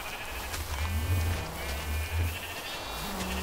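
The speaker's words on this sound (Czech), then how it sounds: "Ty, oni prostě nepřestanou, ty ovce." Sheep in the Minecraft video game bleat over and over, several overlapping calls in an uneven rhythm, fairly loud and close, with no talking heard.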